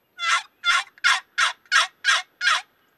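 A wooden turkey box call stroked by hand imitates a turkey with seven evenly spaced raspy yelps, slightly slow in rhythm, close and clear with no voices.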